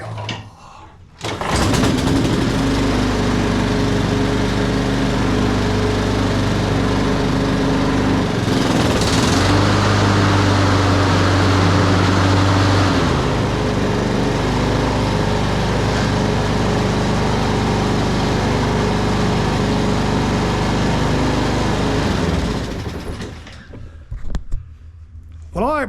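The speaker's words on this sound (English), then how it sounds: "that's a HRX217 Honda push mower" A Honda HRX217 push lawn mower with a GCV200 engine starts after a second, then runs loud and steady at close range for about twenty seconds before cutting off, with a brief throttle change partway through.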